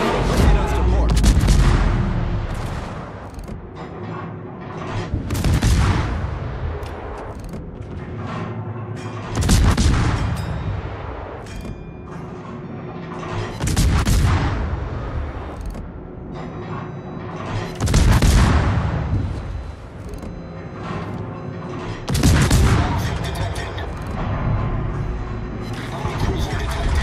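Naval guns fire in a World of Warships battle aboard the Smolensk, with loud heavy booms roughly every four to five seconds and rumbling decay between salvos.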